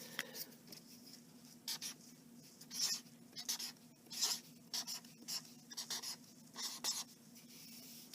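Pen or pencil writing numbers by hand on paper, a faint scratchy patter of short strokes in irregular bursts, close and quiet, with no talking.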